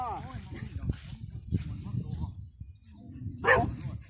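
A dog gives several separate barks and yips, near and fairly loud, spaced a second or more apart, with people talking around them.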